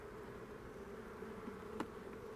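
Honey bees buzz in a continuous, fairly quiet hum from an open queenless hive, with one brief tap partway through.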